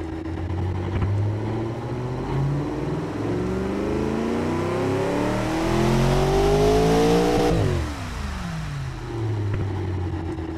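A 1959 4.0-litre DOHC V8 racing engine on DCOE carburetors revs loudly and alone, with a long steady climb in pitch that peaks and then drops sharply. It settles back to a rumbling idle, then picks up again briefly.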